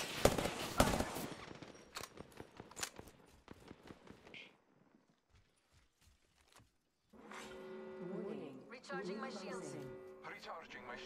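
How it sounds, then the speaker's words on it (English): Sharp bursts of automatic gunfire crack in an Apex Legends match, loud and rapid for several seconds before fading to scattered shots, then a voice speaks over the quieter action. "I'm taking fire."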